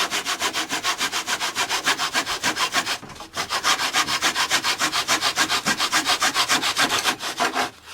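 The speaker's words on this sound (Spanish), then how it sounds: "Simplemente procurando que el serrucho no se te salga de la guía de madera, de la caja de ingletes." A handsaw cuts wood in a wooden miter box with fast, even back-and-forth strokes, loud and close. There is a brief pause after about three seconds, then the rhythm picks up again.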